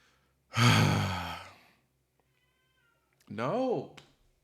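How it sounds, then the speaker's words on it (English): A house cat meows twice, each a drawn-out, breathy call of about a second, close to the mic and alone in a quiet room with a faint steady hum underneath. "my cat does his thing where he thinks he just meows randomly at any point in the day"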